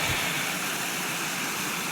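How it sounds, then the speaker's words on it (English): A small waterfall at Johnny Falls near Lander, Wyoming, rushes in a steady, broad hiss of falling water that stays constant and fairly close throughout, with no voices. "It's a neat little waterfall"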